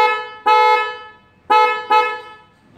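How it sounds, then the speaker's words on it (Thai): A vehicle horn wired to an IQ-275 smart light controller gives three short, loud honks, with quiet gaps between them. "แล้วก็จะมีแตรนะครับ"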